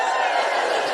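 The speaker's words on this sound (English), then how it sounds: "Just give us a cheer if you listen to the podcast" Live podcast audience in Auckland, New Zealand cheering together, a dense, loud, sustained roar of many voices filling the whole moment.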